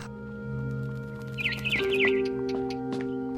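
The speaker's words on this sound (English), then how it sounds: "Then I heard chirping outside my window. It was a barn swallow going back to her nest." A barn swallow chirps in the video game What Remains of Edith Finch, a quick run of high twittering notes in the middle over a sustained tonal musical background.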